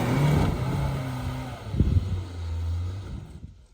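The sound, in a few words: Suzuki Jimny engine struggling to build momentum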